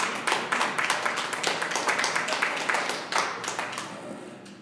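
A church congregation applauds together, a dense, steady wash of many hands clapping close by for several seconds, with no talk over it.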